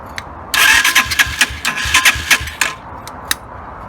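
A Lexmoto Venom 125 motorcycle engine cranks and catches after carburettor cleaning and upjetting, with a burst of loud, sputtering revs, then drops away to a few sharp blips before going quiet.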